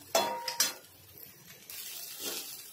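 Okra (bhindi) cooking in a pan, with a couple of sharp utensil clanks against the pan at the start, then a soft, faint sizzle and light scraping while the vegetable cooks.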